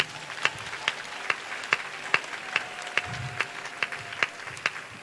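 A church congregation claps along in a steady rhythm, roughly two sharp claps per second, moderately loud and close, with a faint sustained tone running underneath.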